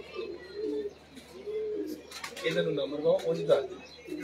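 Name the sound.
pigeon cooing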